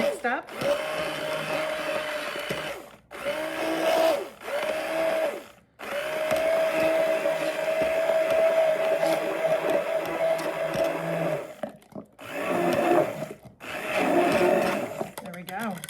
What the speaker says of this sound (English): I am gonna come in with my handy dandy immersion blender and we're gonna get this just mixed up.